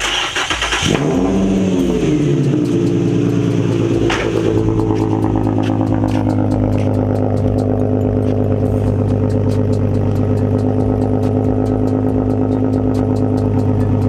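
An Infiniti G35 coupe engine cranks and catches, revs briefly, then settles into a steady, loud idle running close by.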